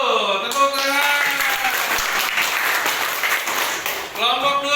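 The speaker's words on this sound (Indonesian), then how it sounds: "Tepuk tangan." A classroom group applauds together in a burst of steady clapping, loud and close, with a voice speaking at the start and end.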